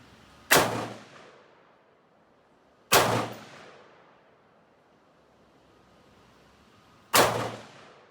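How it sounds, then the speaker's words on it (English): Three shots from a Heckler & Koch HK33K rifle fired outdoors at a 50-yard range, each a sharp loud crack with a rolling echo decaying over about a second, spaced a few seconds apart. "We're going to just put 3 rounds out there at 50 yards."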